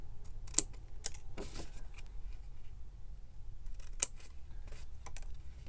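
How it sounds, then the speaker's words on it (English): Scissors snipping paper to make a journal pocket, a few crisp, close cuts spaced irregularly over a quiet background with no talking. "we'll go ahead and snip off the bottoms"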